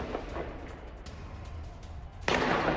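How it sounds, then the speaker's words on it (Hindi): Gunfire from Iranian police shooting from atop a police station at protesters on a street in Karaj: sharp sporadic pops over a noisy outdoor bed, ending in a sustained loud burst of noise. "करज में ईरानी पुलिस ने फायरिंग की है। पुलिस स्टेशन के ऊपर से गोलियां बरसाई हैं।"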